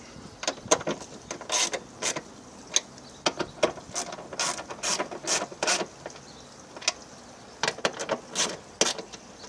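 Rapid, uneven bursts of ratchet clicking, a bolt being tightened in short spurts with brief pauses while fitting a car's rear wiper motor, close by over a quiet background.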